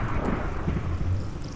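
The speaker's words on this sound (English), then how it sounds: "Oh no, I don't like thunderstorms." Thunder from a Minecraft thunderstorm rolls as a dense, continuous low rumble mixed with rain hiss, steady and fairly loud.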